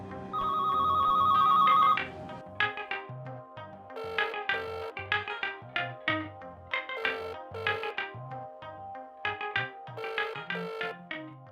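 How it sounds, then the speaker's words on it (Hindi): A mobile phone rings with an electronic ringtone. It opens with a sustained bright tone, then plays a repeating, bouncy melodic pattern of short notes, loud and clear with no talking. "Eamon's calling again"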